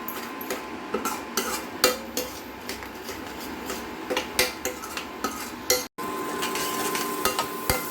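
Cauliflower gravy simmering in a pan while being stirred, with repeated scraping and clinks of a spoon against the pan over a steady low bubbling sizzle, close and moderately loud, with a brief cut near the end.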